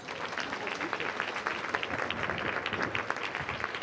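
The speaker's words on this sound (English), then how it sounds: "Can we please give our next speaker, Jeanne Celestine Lakin, a round of applause?" Large audience applauding to welcome a speaker onto the stage, a dense continuous wash of clapping at moderate distance that holds evenly throughout without a break.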